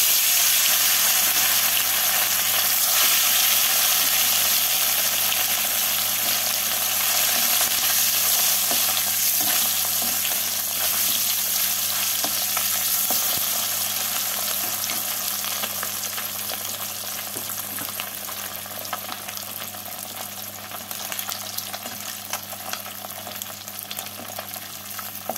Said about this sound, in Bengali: এবার এর মধ্যে মাছগুলোকে দিয়ে উল্টে পাল্টে লাল করে ভেজে তুলে নিতে হবে।